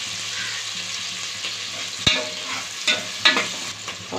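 Onions frying for a mutton biryani, a steady close sizzle with a few sharp clinks and scrapes of a spoon stirring the pan, no talking.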